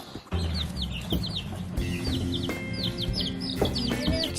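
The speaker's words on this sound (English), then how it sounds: "New chickies, and they're black, and they're very cute." Newly hatched black chicks peeping in rapid, high, repeated chirps, with faint rustling and some low background noise beneath.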